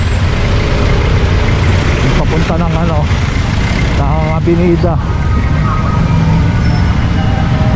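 Street traffic on Recto rumbles continuously, with the deep idling and engine drone of trucks and buses close by, while someone speaks briefly over the noise midway.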